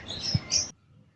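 Young racing pigeon calling close by, one brief chirping call lasting under a second, then quiet outdoor background.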